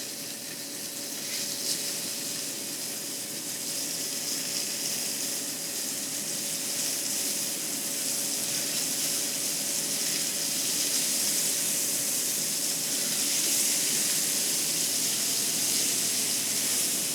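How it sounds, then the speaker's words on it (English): Meat sears in browned butter in a skillet, giving a steady, quiet sizzle and hiss that runs unbroken with no voices over it. "I just have a skillet on behind me with butter that's getting a little too brown. And we're just going to put this in here and sear both sides."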